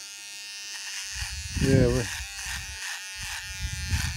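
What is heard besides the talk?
electric shaver buzzing while shaving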